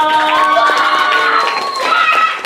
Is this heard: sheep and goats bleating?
no